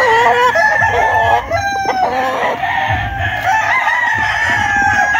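Several young stag roosters crowing loudly and close together, overlapping calls ringing out one after another with clucking and farmyard noise underneath, no talk.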